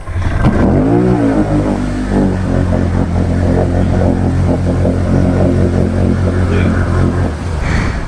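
Can-Am Renegade four-wheeler ATV engine revs loudly and close, rising in pitch at the start, then holding a rough, throbbing run at high throttle, likely stuck in mud, before easing off near the end.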